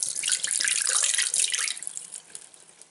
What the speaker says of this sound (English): I'm just going to go ahead and pour the water out, this cold water out